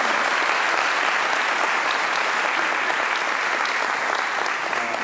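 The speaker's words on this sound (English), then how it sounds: "can you let him know that by a round of applause?" A church congregation gives Pastor Richard a round of applause after an evening Bible prophecy class, a thick, continuous wash of many hands clapping at a steady level for the whole span.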